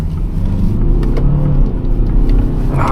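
A BMW car accelerates with a loud, close engine rumble and rising drone, heard from inside the cabin with no talking.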